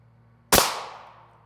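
A single sharp gunshot fired at a DFNDR Level III X armor plate cracks loudly and close, then decays over about a second, with a low hum under it and no talk.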